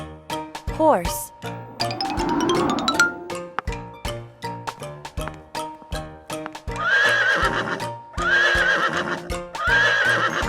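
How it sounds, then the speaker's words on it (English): A horse neighs near the start of a children's colour-and-animal learning sequence, a clear whinny over bouncy music with bright chimes and jingles, while a voice names things between the sounds. "Horse."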